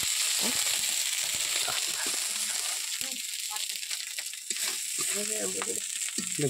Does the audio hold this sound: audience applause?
no